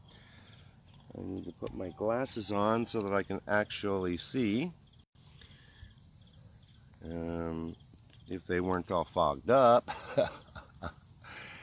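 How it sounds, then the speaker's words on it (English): Crickets chirp outdoors at sunrise, a faint steady high trill running through the scene while a person talks over it at close range for most of the time. "You can hear the crickets,"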